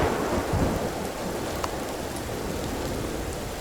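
A thunderstorm in the space survival game Empyrion: heavy, steady rain with a deep rumble of thunder that is loudest at the start, then a continuous wash of rainfall with scattered drop sounds and no voices.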